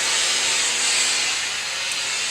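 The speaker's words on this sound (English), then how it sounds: "I figured that if heat shrinks something, then my powerful steam iron ought to shrink this, right?" A powerful steam iron blasts steam into pre-washed quilt batting beneath a placemat, a loud, steady hiss running throughout without pause.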